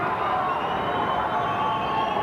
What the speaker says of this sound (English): The crowd worked into a frenzy here.